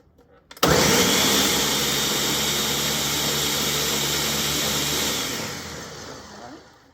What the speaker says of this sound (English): And we're gonna blend the onions.